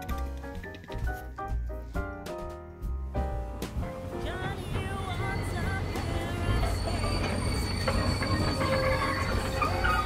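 A small toy train clatters along its track with rapid rhythmic clicking, followed by a steady whirring rumble and high metallic squeals, close by.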